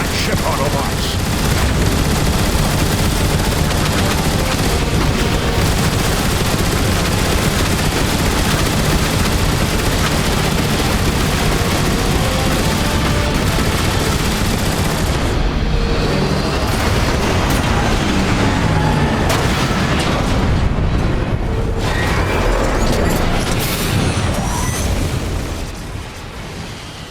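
Heavy weapon fire and explosions in the Transformers War for Cybertron video game as a Decepticon warship is attacked, a loud continuous barrage of shots and booms lasting nearly half a minute, with game voices mixed in.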